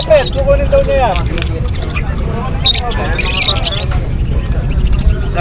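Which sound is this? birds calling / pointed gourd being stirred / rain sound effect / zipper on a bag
birds calling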